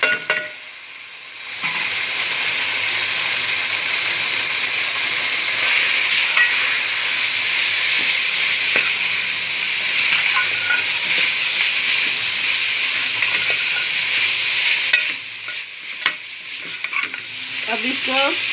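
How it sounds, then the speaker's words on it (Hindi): Urad dal frying in masala in a pan, a dense continuous sizzle with scraping stirring strokes for about fifteen seconds, easing near the end into scattered clinks and crackles. "अब इसको 10 से 15 मिनट तक आपने भूनना है।"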